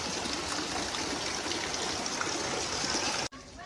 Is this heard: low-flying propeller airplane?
no